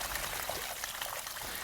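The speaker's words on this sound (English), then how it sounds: "You can hear the water very soothing." Water pours and trickles steadily into a lower holding basin in a landscaped garden, a soft continuous splashing wash with no voices.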